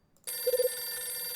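A telephone rings in the detective game Last Window: The Secret of Cape West, a short burst of four quick electronic trill pulses over a steady hum of game background tones, with no talking.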